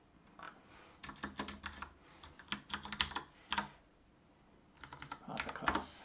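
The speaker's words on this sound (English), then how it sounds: "Just get my hand on the keyboard, and then we can go a lot faster." Computer keyboard typed on rapidly while coding a parser, a close, dense clatter of keystrokes in bursts with brief pauses, no voices.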